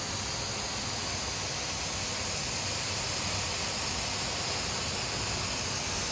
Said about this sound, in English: we're steaming it out now